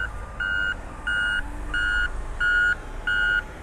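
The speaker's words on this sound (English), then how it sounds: "Here comes all the dump trucks." Dump trucks on Vanderbilt Beach Road in North Naples, Florida sound reversing alarms, five evenly spaced electronic beeps at a moderate distance over low traffic rumble.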